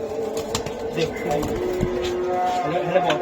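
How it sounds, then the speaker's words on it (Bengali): Pigeons of a high-flyer breed give soft, low cooing nearby, with occasional wing rustles, under a voice talking throughout. "এই যে আরেকটা কবুতর"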